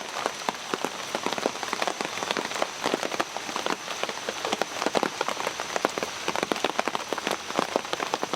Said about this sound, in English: just came down here to sit in the rain